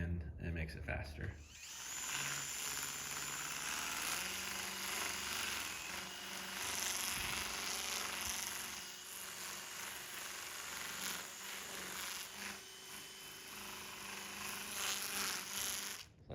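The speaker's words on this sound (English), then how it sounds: "for the sanding, I use a flap sander. This is made by Sando Flex." Sando Flex flap sander working over a chainsaw-carved wooden owl, a steady loud whirring buzz that runs almost continuously after a brief start, with abrasive scuffing on the wood grooves.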